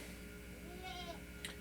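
Goats bleat faintly in the background near a workbench, one short wavering call followed by a brief higher cry over a steady low hum.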